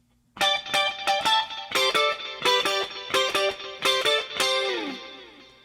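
A distorted electric guitar plays the opening riff of a song alone, a series of sharp chord stabs in a quick rhythmic pattern, ending on a sustained ringing chord.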